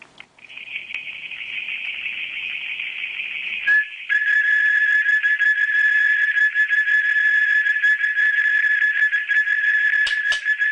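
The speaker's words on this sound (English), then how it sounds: "Now let's try something. I'm going to whistle." A person whistles a steady, sustained high tone, which shifts pitch partway through and then holds on, loud and close, with faint clicks near the end.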